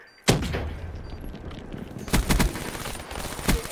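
A frag grenade blast and bursts of gunfire in a multiplayer shooter game: a sharp loud explosion followed by rapid clustered shots and another distinct bang, with no talking.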